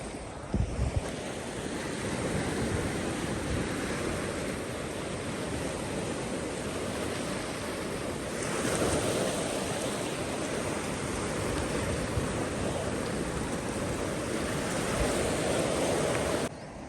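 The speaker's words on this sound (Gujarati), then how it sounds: "જોઈ શકો છો અમે દરિયા કિનારે આવી ગયા છીએ. દરિયા કિનારે મજા કરવાની છે." Sea waves at the seashore, a continuous washing surf roar mixed with wind buffeting the microphone, steady and fairly loud with a swell midway, no speech.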